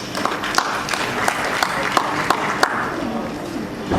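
An audience applauds after a professor's speech at a celebration of Nigeria's 20 years of democracy, a sustained round of clapping with a few sharper claps standing out and voices mingling underneath.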